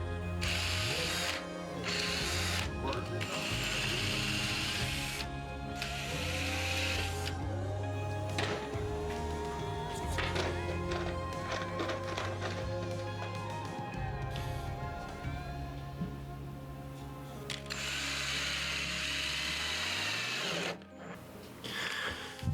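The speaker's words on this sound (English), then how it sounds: "Gonna drill some pilot holes." A power drill whirs in repeated bursts drilling pilot holes in wood, revving up and down with mechanical grinding and clicking, close by, with short pauses between runs.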